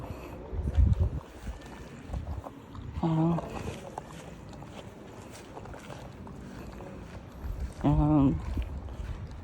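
Steady wind rushes and buffets against the microphone throughout, with a couple of short voiced bursts rising briefly above the blustery noise.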